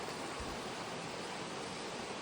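A steady, even rush of flowing creek water, soft and constant with no other sounds.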